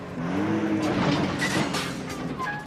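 A car engine revs hard as the car pulls away on a rough mountain pass, with a loud, continuous roar and a rising whine close by.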